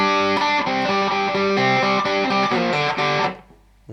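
Electric guitar plays the next phrase of the riff, a distorted, rhythmic run of sustained chords and notes that rings out loud and clear, then cuts off and decays near the end.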